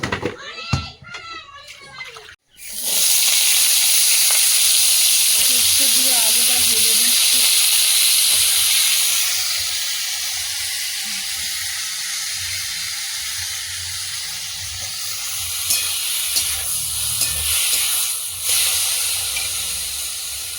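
Potatoes frying in a pan over a wood-fired stove give off a loud, steady hiss and sizzle that carries on for most of the stretch after a brief opening of children's voices and other noises.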